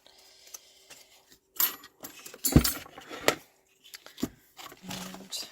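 Scissors snip through hand-stamped decorative paper, cutting out leaf shapes for cardmaking: scattered short crisp cuts and rustles, close and fairly quiet, with silent gaps between bursts.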